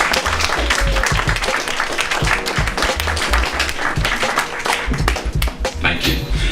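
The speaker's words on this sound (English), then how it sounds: "Big round of applause for all the young people who turned up today" Energetic applause rises from an audience at a youth event, with sharp, dense claps and some low rumble underneath, staying loud throughout.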